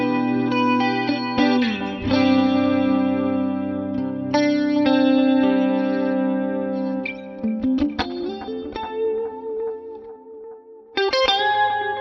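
An electric guitar with a sparkly clean 80s tone runs through the S-Gear amp plugin with a compressor in front, playing sustained chords and picked notes that ring out with chorus-like shimmer and echo, alone and fairly loud.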